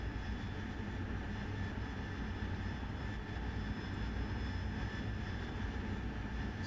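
Steady, loud jet engine roar from an AV-8B Harrier closing on a refueling tanker in DCS World over the Persian Gulf, a continuous even whine and rumble throughout with no talk.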